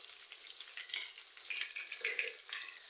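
Chicken tender strips deep fry in oil with a soft, steady bubbling sizzle and light crackles, fairly quiet and close, with no talking.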